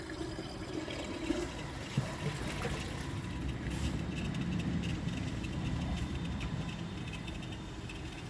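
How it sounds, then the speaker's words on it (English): Water pours steadily into a Jacuzzi Perfecta toilet bowl, a continuous low splashing rush that stays fairly even from start to finish, close and moderately loud with no voices over it. "let's add some water to the bowl"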